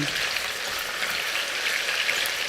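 Chicken seasoned with black pepper sizzles steadily in a hot pan while being stirred, a dense, even crackle of frying oil that fills the whole stretch without talk.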